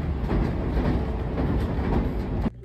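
A JR 313 series 1700 train runs along a long straight on the Iida Line, with a steady loud rolling roar and rhythmic wheel clatter that cuts off abruptly near the end.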